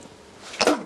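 A single short, sharp sneeze bursts out near the end of a quiet moment indoors, loud and close.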